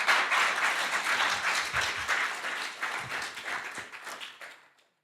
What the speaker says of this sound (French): Et on peut applaudir, effectivement.